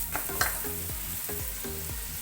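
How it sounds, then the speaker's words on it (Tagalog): Chopped garlic and onion sizzle and fry steadily in melted margarine in a pan, a continuous close hiss with some stirring as the sauce for chicken buffalo wings is started. "So, ilalagay natin yung ating bawang at sibuyas."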